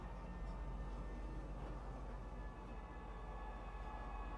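Train pulling into a metro station in the Star Citizen video game, a steady low rumble and rolling rail noise with a faint hum, continuous and moderately loud throughout.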